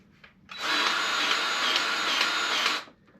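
A grease gun pumps grease into the zerk fitting of a suspension bushing on a Suzuki DR350S, one steady broadband hiss lasting about two seconds, close and fairly loud, with no talking.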